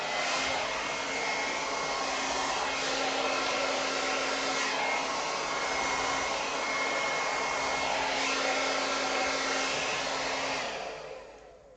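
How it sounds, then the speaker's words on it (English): A hair dryer blows steadily at close range to dry ink on Yupo paper, a continuous broadband whoosh that holds level for about eleven seconds before tailing off at the end. "Okay, I'm using the hairdryer."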